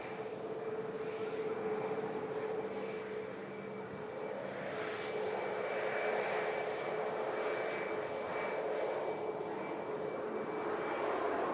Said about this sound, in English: Yet another Ryanair about to touch down.